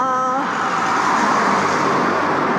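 Cars drive fast along a residential road near Vila do Conde, Portugal, giving a continuous loud traffic rush with a passing vehicle's tone early on; a voice speaks briefly at the start.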